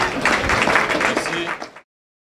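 A seated audience at a real-estate conference applauds the speakers, a brief dense burst of clapping that runs for under two seconds and then cuts to silence.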